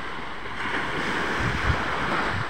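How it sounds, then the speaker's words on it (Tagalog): Surf rolling onto the shore beside seaside houses at IKP Beach facing Samal Island, a steady broad wash of waves with wind buffeting the microphone, continuous and fairly close. "malalaki pang alon"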